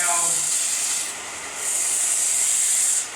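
A FORESTWEST 4"x6" 0.5HP belt disc sander grinds a wooden picture frame with a loud, steady hiss of abrasive on wood that eases briefly and then resumes before cutting off.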